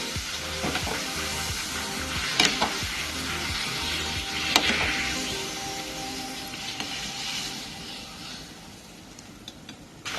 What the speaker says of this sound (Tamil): சூடான எண்ணெயில போடலாங்க